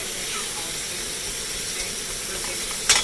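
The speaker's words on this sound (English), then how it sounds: "By searing it, you're burning this side, that's on the other side, and you're trapping the moisture in here." Meat sears in a hot pan, giving a steady hiss and sizzle that holds throughout, with a brief sharp clatter near the end.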